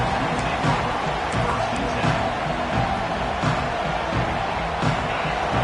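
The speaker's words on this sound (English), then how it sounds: "This crowd trying to make life miserable for this offense." Stadium crowd at a college football game between Ohio State and Alabama, a steady dense roar of many voices filling the whole clip at moderate loudness, with no break.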